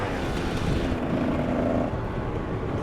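A KTM 300 EXC two-stroke supermoto engine drones loud and steady through a wheelie, its note swelling slightly under heavy wind rush, with no one talking.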